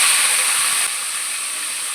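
Tomatoes, coriander, green chillies and onions hit hot oil in a pan for tomato pachadi, giving a loud, steady hiss that drops slightly after the first moment and continues evenly.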